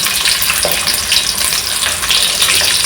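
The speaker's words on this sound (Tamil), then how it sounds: "வெங்காயத்தை நல்லா ஃப்ரை பண்ணிட்டோம்." Onions frying in oil in a pan, a loud continuous hissing sizzle with faint occasional stirring, close up.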